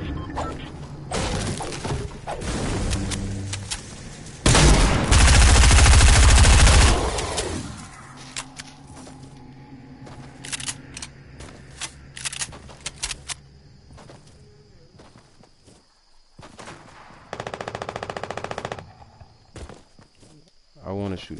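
Gunfire in a live PS4 shooter with zombies and other players, a dense loud burst of shots in the middle among scattered thuds, footsteps and softer later volleys.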